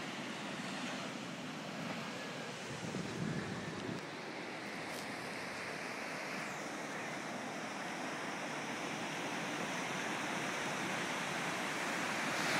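Ocean surf at Muir Beach at sunset, a steady broadband wash of waves with faint wind, distant and even in level, no voices.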